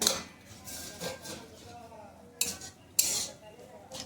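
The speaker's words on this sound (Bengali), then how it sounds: "এবার ঢাকনাটা খুলে আমি নেড়ে দিচ্ছি।" Metal lid lifted off a pot and a spoon scraping and stirring leafy cockscomb greens in a pan, with two sharp clanks of metal amid soft repeated scraping, close and moderately quiet.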